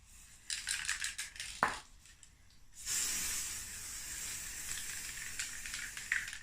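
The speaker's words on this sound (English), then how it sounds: "I'm just starting to spray all the area around the circles." A pressurized aerosol spray hisses in short bursts, then a longer continuous spray, with a small clink early on; no voices.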